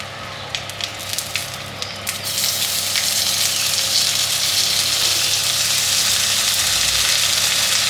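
Cumin seeds hit hot oil with a few sharp crackles, then a loud, continuous sizzle swells and holds steady at close range, with no talking.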